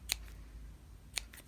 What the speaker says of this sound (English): So then you just take your scissors